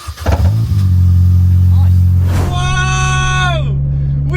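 A Mini Cooper engine runs steadily after being jump-started, a loud low drone that rises as the car pulls away and accelerates, with a brief rev near the start and a whine climbing over the hum.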